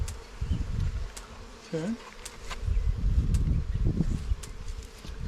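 Honey bees buzz around an opened hive during a swarm relocation check, a soft continuous hum with occasional closer passes, while a person speaks briefly and handling noises rustle nearby.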